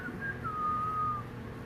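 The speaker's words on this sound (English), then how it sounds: "I can whistle." A person whistles a single sustained, gliding tune alone, fairly close and clear, over quiet room tone during an acrylic pouring art session.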